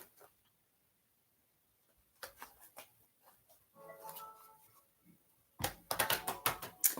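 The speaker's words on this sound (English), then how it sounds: "I'm gonna shuffle the cards good." Tarot cards being shuffled during a live reading, with soft riffling and slapping card sounds arriving in short irregular bursts between quiet gaps, louder near the end.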